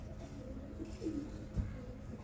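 Young roller pigeons in a flying team coo softly from a loft. A few low, faint coos sit over a steady background hum.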